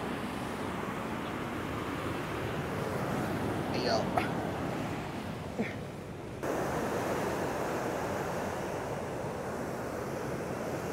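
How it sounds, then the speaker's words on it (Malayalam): Rough sea waves surge onto the shore in a continuous roar mixed with wind under an overcast sky, and a voice briefly exclaims. "കടൽ പിന്നെയും കയറി തുടങ്ങി"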